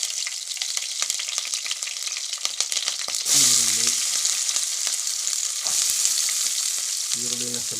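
Green chillies sizzle and crackle steadily in a hot pan, with occasional stirring clatters and a brief louder burst of spattering midway.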